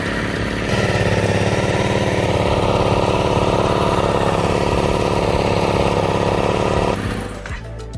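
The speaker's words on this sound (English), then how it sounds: "So I start the bike up and make sure it runs." A motorcycle engine starts up after an oil change and settles into a steady, loud idle that runs for several seconds before cutting off near the end, no talking.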